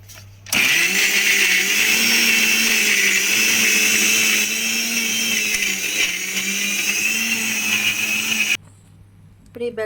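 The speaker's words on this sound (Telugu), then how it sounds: "మిక్సీ జార్ ఇంకొంచెం మెత్తగా అవ్వాలి." A mixie jar grinding corn pakoda batter runs at a loud, continuous high whir for about eight seconds, starting abruptly and cutting off sharply into near quiet.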